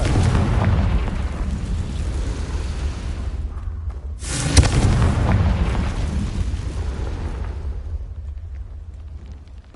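A Confringo spell explosion in the Hogwarts Legacy video game, a loud roaring blast with a sharp burst near the middle followed by a sustained rumbling decay, with no talk.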